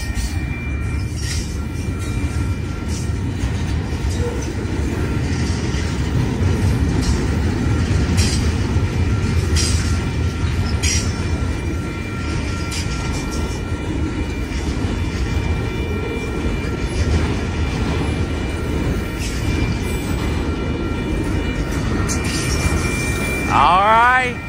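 An intermodal freight train from 1996 with a mid-train DPU, bound for Long Beach, rolls past steadily at close range, its continuous loud wheel and rail rumble filling the scene, with a brief wheel squeal near the end.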